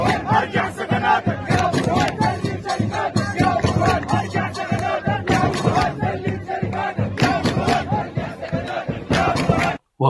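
Tens of thousands of protesters in central Sudan chant slogans in loud, rhythmic unison, a dense roaring crowd sound with repeated shouted phrases that continue steadily and cut off abruptly at the end.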